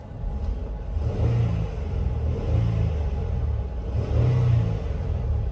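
The engine of a 2014 Ford Flex SEL idles with a low, steady rumble and swells in a few brief revs, heard close and alone with no talk.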